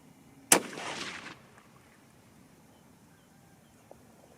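A single 30-06 Springfield rifle shot fired at a target, firing 150-grain bullets: one sharp, loud crack followed by a rolling echo that fades over about a second, then quiet outdoor ambience.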